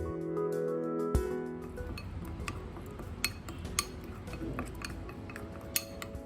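Fish marinade with chilli powder, ginger-garlic paste and water is stirred in a bowl for a Kerala pothichoru recipe, with a sharp clink followed by scattered light taps and scraping of a utensil.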